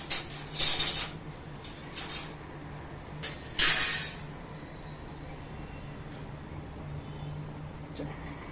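A metal ladle clinks and scrapes against a cooking pot of smoking-hot oil while making goonda (gunda) pickle. Several short, bright clatters come in the first half, then fade to a low steady hum.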